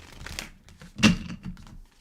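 Papery riffling and crinkly card flicks close up, a short burst of shuffling with one sharper snap in the middle.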